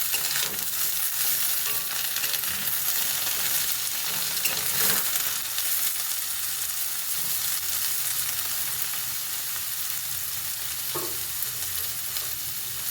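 Pieces of pointed gourd (potol) sizzle steadily in hot oil in a pan, with occasional scraping and stirring sounds, close and continuous with no talking.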